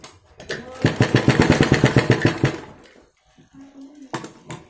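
A sewing machine runs in a quick, steady rhythm for about two seconds while stitching the sleeve of a kurti, then stops, leaving a few softer mechanical sounds and light handling noise.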